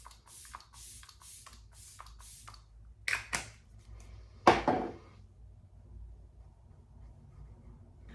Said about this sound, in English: I finish off with the Makeup by Mario setting spray